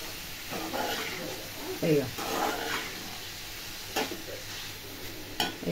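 Fresh pigeon peas fry in a pan while being stirred, a soft sizzle and hiss broken by a few scraping strokes of the spoon, with a voice talking over it.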